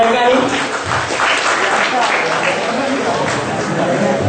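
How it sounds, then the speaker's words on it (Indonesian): Audience at a Buddhist Dhamma talk clapping steadily for several seconds, a dense, fairly loud patter of hands with crowd murmur underneath. "Ya, tepuk tangan untuk mereka ini."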